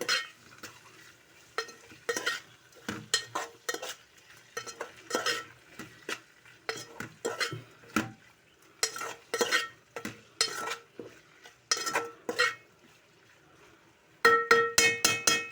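Mutton liver fry being stirred in plenty of oil in a pan, with repeated sharp scraping and clinking of the spoon against the metal pan in quick strokes over a soft sizzle, with a faster run of stirring near the end.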